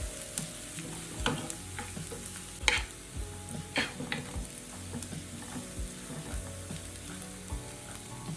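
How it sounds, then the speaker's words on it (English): Onions fry gently over medium heat with a continuous soft sizzle, broken by occasional stirring scrapes and light utensil taps. Heard close up, with no voices. "Make sure the fire is not too much. Fry it on a medium heat."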